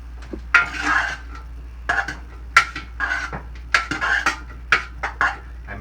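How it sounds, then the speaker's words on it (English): A utensil scrapes and clanks against a pan while steamed vegetables for a stir fry in peanut sauce are turned, in irregular metallic knocks and scrapes spaced about half a second apart, close and clear with no talk. "Make sure those get stirred as you go through."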